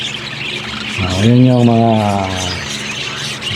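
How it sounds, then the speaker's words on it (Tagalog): Pet budgerigars (keets) of spangle and opaline varieties chirp and squawk close to the recorder, a brief rising chattering burst in the middle with a voice speaking around it. "mga ibon niya"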